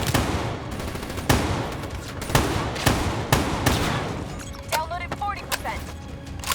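A 205 Brecci shotgun fires in quick succession in a video game, several sharp loud blasts about once a second with a voice talking over them and some faint effects at the end.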